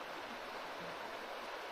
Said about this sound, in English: I stare at this beautiful river and drink coffee